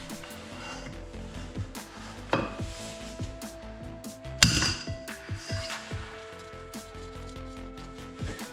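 An 8 mm hex key and breaker-bar tube work on an overtightened transmission drain screw of a TGB Blade 470 SL quad, giving faint metallic clinks and one sharp crack midway.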